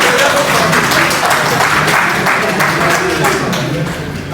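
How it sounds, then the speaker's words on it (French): Audience at a national trading day event clapping loudly and steadily, dense applause close by with some voices mixed in, tapering slightly at the close. "Applaudissez très fort pour vous"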